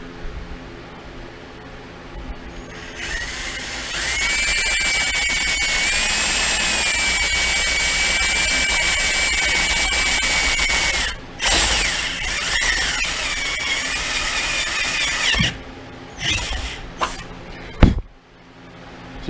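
Drill boring through a car body panel while fitting roof lights, a sustained close whine with a rising grinding tone for about twelve seconds, then a few short bursts and clunks near the end.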